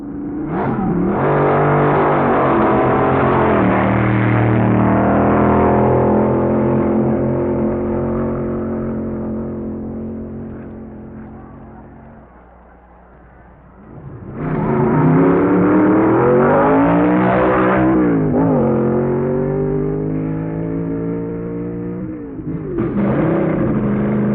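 A Chrysler-powered drag racing car, the Puffer 2, roars loud and close at Indianapolis Raceway Park in 1961, its engine note rising and falling, easing off briefly, then surging back to full power.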